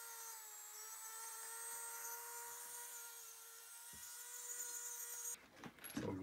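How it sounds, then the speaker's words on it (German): A small power tool whines steadily at high pitch while cutting the handlebar grips off a 300 EXC dirt bike, then stops abruptly near the end, followed by a few close handling clatters. "dann schneide ich mal eben die Griffe irgendwie ab."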